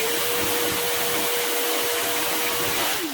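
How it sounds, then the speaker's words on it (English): A vacuum cleaner runs loud and close on newly cleaned carpet, a constant high whine and rush with slight shifts in pitch as it moves. "I'm about to quickly vacuum it now"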